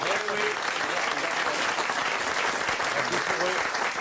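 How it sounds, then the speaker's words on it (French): Studio audience applause on a French talk show fills the whole stretch, a dense, steady wash of many hands at even loudness, with faint voices threaded through it. "Et je vous demande de les applaudir, hein, tous ceux qui sont pas venus."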